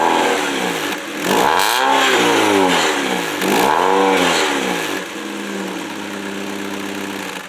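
An Alfa Romeo 156 car engine starts up and revs twice in strong rising-and-falling sweeps, then settles into a steady idle, loud and close with no voices.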